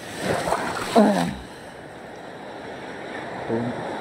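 Soft, steady wash of ocean waves with wind noise outdoors, and brief voices breaking in near the start and end.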